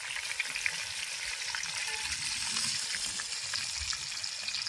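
Curry leaves and bird's eye chillies sizzle in hot oil in a traditional Kerala kitchen, a steady close crackle and hiss with scattered small pops and no talking.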